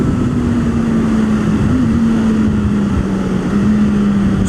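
A Honda car pulls onto a race track with a steady, loud engine drone and a sustained low hum throughout, no voices.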